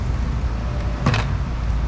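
An interior trim piece is unclipped from a Gol GTI. A single short plastic snap comes midway through, over a quiet, steady background hum.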